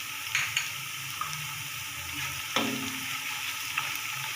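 Sliced onions frying with whole garam masala in hot oil for a yakhni vegetable pulao, a steady close sizzle with a few soft clinks and stirring sounds, no talking.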